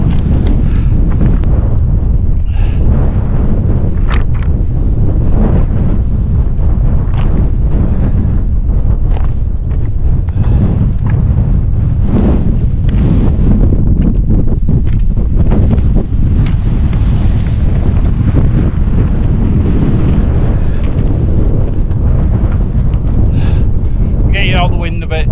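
Extreme wind batters a solo mountain camp near Coniston in the Lake District, roaring continuously and very loud as it buffets the microphone and a tent, with a brief voice near the end.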